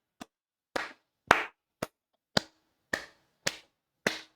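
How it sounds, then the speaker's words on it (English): Eight separate hand claps on a chess tournament livestream, close and crisp, coming at a slow, slightly uneven pace about half a second apart, with no talking between them. "Chat, we need to clap."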